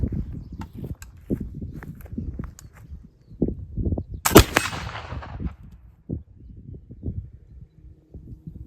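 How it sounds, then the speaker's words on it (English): A black powder gun fired with hemp-based powder, one sharp loud blast at the midpoint with a brief ringing tail, surrounded by quieter shuffling, handling knocks and footsteps outdoors. "Shot number 3 with the hemp."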